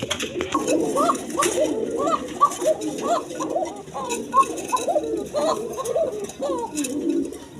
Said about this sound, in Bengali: দর্শক এইখানে আরেক পেয়ার কবুতর দেখালাম, বাসিরাজ কোকা দেখেন, এইখানে আরেক পেয়ার